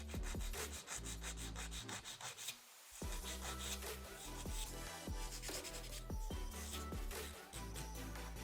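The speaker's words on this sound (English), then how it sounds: "I hold my file straight up and down, and I start filing in towards the tip, bringing it back to a point." A nail file rasps back and forth against an acrylic nail as it is shaped into an almond stiletto point, in quick, close, rhythmic strokes with a brief pause partway through.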